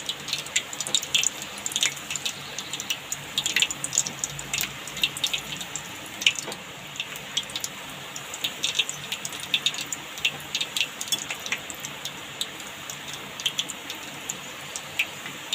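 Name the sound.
papad frying in hot oil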